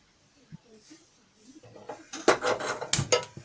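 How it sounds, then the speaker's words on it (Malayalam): A pan is set on a kitchen stove, quiet at first, then a cluster of close metallic clanks and clatters toward the end. "ഒരു പാൻ അടുപ്പിൽ വയ്ക്കാം."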